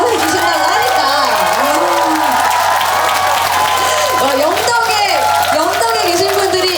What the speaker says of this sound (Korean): 여러분 큰 박수 보내주시면 앵콜 한 번 더 해주신다고 하니까